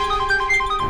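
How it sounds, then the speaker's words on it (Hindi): A mobile phone ringtone plays loudly and close, a steady electronic melody of repeating tones continuing without pause. "फोन अभी भी बज रहा है। किसका फोन बज रहा है?"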